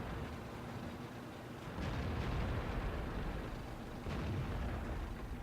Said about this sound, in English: There goes the artillery.